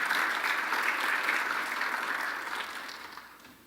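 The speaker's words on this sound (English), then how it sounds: "Please give her a round of applause as she comes up." Steady applause from an audience at a lifetime achievement award ceremony for a senior counsel, dense and sustained, fading slightly toward the end.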